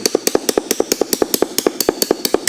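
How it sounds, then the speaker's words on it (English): A hammer drives out the pin holding the hammer in a set trigger, about twenty sharp metallic taps in a fast, steady rhythm, close and clear with no talking. "that's a pretty simple process of just driving out the pin that holds the hammer in"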